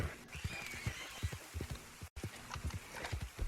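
A horse in Red Dead Redemption 2 walks with steady, fairly quiet clip-clopping hoofbeats, repeating at an even pace with no voices over it.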